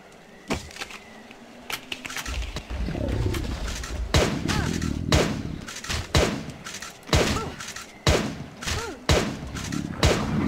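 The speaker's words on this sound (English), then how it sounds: "we can definitely get away with using a pistol" Pistol fire in a zombie video game, with about a dozen sharp, loud shots coming singly at an uneven pace over a rumbling, growling game backdrop.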